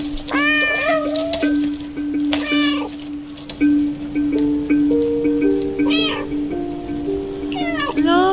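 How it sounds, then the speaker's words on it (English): A cat meows repeatedly in the video game Stray, a string of clear near meows and a drawn-out yowl over a steady electronic hum and soft game ambience. "I can meow incessantly. Even in cutscenes."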